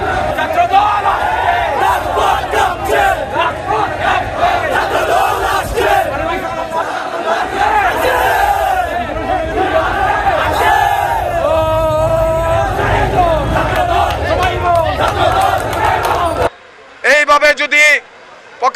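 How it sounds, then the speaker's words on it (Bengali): A student wing protest march in Sylhet, Bangladesh, with a large crowd chanting slogans loudly in unison, voices rising and falling in rhythmic call-and-response before cutting off abruptly near the end. "সিলেট জেলা ছাত্রদলের বিক্ষোভ মিছিল থেকে"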